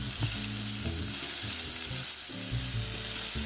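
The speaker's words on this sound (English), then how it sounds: "I already got the onions in, and now I'm going to add the bacon" Bacon and onions frying together in a pan, a dense, continuous close sizzle with crackling spatter and some stirring scrapes throughout, no voices.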